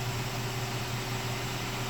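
A 2020 Kia Sedona engine idles steadily just after a remote start, a low constant hum with faint hiss, no voices.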